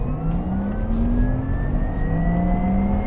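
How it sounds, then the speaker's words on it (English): A Porsche in sports mode accelerates hard, its engine note climbing steadily in a smooth, continuous rev from inside the cabin, loud and close with no talking. "So acceleration, pretty damn good."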